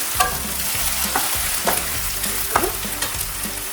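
Ginger garlic paste with turmeric fries in a South Indian mutton keema pan, a steady close sizzle broken by several sharp scraping stirs, with no voices.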